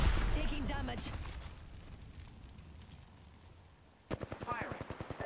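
Apex Legends gunfire: a heavy burst of shots and explosive booms at the start fading into a quiet stretch, then a rapid, evenly spaced automatic weapon volley near the end.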